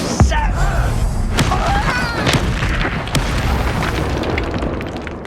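An Incendio fire spell from Hogwarts Legacy goes off in a loud booming blast, followed by roaring burst and crackle from the flames and scattered combat effects that gradually thin out.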